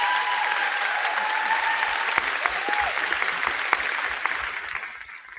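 An audience at a school board meeting breaks into sustained clapping, a dense steady patter with a few sharper claps, fading slightly at the end.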